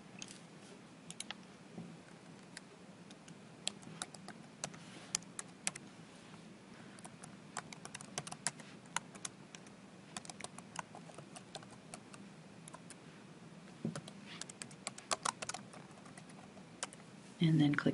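Computer keyboard keys clatter in quick irregular bursts while an online form is filled in, soft and close with brief pauses between runs of typing.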